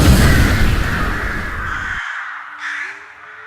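Crows caw loudly in a Witcher audio comic scene, a dense harsh burst over a noisy rumble that cuts off abruptly, leaving a thin tone and a fainter caw behind.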